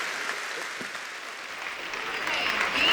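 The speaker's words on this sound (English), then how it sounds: "round of applause for all of our sponsors tonight" Applause from a talent show audience honoring the evening's sponsors, a full crowd clapping continuously for a few seconds and swelling louder at the close.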